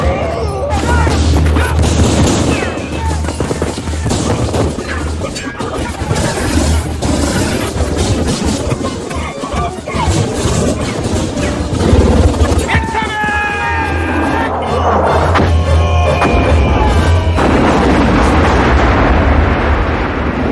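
Heavy gunfire and booming explosions from a movie action scene, a dense, loud, continuous barrage with rumbling blasts throughout and short shouted voices mixed in.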